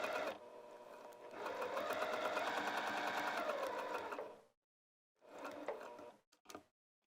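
A sewing machine stitches lounge pants in a close, rapid ticking burst of about four seconds, then stops and restarts for a shorter run followed by two brief jabs.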